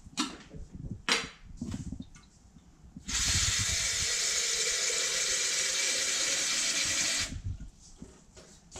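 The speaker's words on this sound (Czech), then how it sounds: "do toho pekáče naleju vodu" Water pours steadily into a roasting pan for a meatloaf water bath, a loud, continuous hissing splash of about four seconds that starts and stops sharply, with quieter kitchen handling noises before and after.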